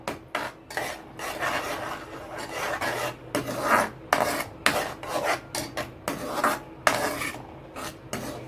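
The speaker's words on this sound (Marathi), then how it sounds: "आता मिक्स करून घेणार आहोत आपण." Thick Chinese veg cutlet mixture with arrowroot being stirred and rubbed in a pan, giving repeated close scraping, rasping strokes with brief pauses, no voices.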